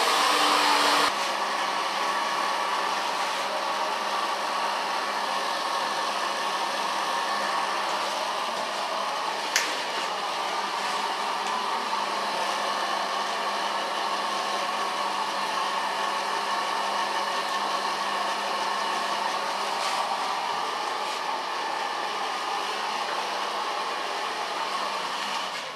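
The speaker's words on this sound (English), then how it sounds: "So far blow drying." A handheld hair dryer blows steadily on hair being taken from platinum blonde to black in a salon, a constant close whooshing roar that runs unbroken for nearly half a minute.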